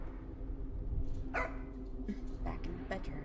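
A dog barks in the ambient soundscape of a video game, a few short yips and barks popping out over a low steady background hum.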